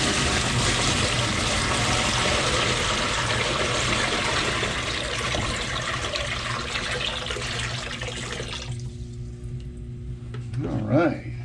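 Warm water pours steadily into a pool inside a reptile enclosure, a continuous near splashing rush that fades out toward the end, followed by a brief voice.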